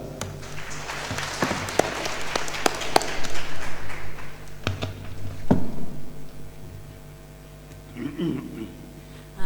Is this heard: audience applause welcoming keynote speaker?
yes